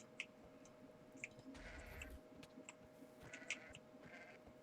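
A Minecraft goat in an MCE Eternal modpack bleats several times in short, faint calls, scattered among quiet game ambience and small ticking clicks.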